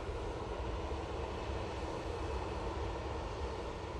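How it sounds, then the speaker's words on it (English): KLM Boeing 737-800 airliner departing Manchester Airport for Amsterdam Schiphol, its engines a faint, steady distant roar that stays constant with no voices over it. "Going off to Amsterdam Schiphol using the 737-800."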